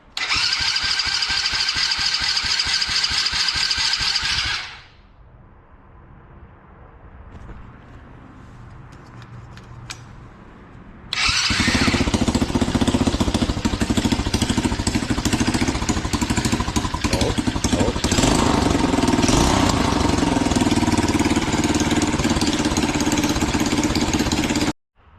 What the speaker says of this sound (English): After a couple gas squeezes, she'll fire right up first try.